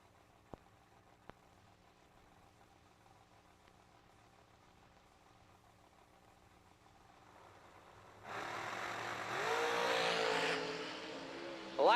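A dragster launches hard at a drag strip, bursting into a loud, sustained engine roar after several seconds of quiet track ambience, then cutting off abruptly with a final sharp blast at the end.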